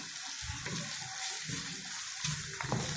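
Goat meat fries in a pan over raised heat, a steady close sizzle with occasional stirring scrapes and clinks underneath.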